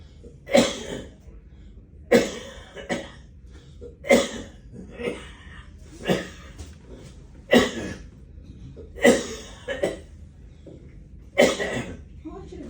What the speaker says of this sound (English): Cough if you have to.